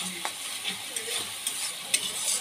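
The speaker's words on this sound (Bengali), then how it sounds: "এখন এই মশলাগুলোকে কিছুক্ষণ ধরে কষাতে হবে কম আঁচে" Spices with turmeric powder fry slowly on low heat under a steady close sizzle, with light scrapes of stirring breaking through now and then.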